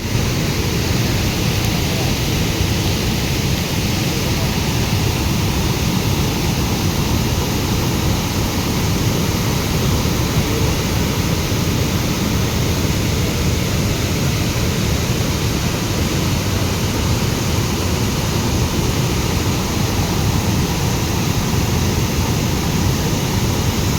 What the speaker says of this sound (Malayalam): ഇതാ ഉരുളിയിൽ നിന്ന് ഇങ്ങനെ വെള്ളം വരുന്നതാണ്